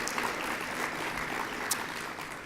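Audience applause at a welcome event held by EDCC and the City of Westminster, a steady, dense clapping that carries on evenly through the whole stretch with no speech over it.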